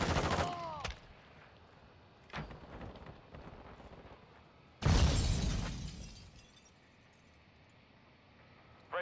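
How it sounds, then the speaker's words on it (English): Gunfire and shattering impacts in Call of Duty: Modern Warfare II, with a few sharp cracks early and a loud, crashing blast midway that rings out and decays, separated by quieter stretches. "I'm taking enemy fire."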